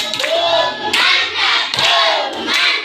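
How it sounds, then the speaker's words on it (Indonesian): A school class gives a rhythmic clap-and-shout cheer in three loud bursts of group clapping, each with voices calling out together. "Yuk kita kasih tepuk mantap 3 kali untuk kita semua."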